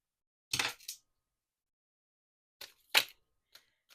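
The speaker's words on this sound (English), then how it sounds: "Was that two shuffles?" Tarot cards shuffled by hand in a quiet room, heard as two short, soft riffling bursts about two seconds apart, followed by a faint tap, with no talking.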